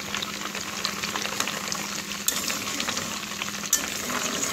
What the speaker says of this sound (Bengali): আস্তে আস্তে কিন্তু ঘি হওয়া শুরু করে দিয়েছে।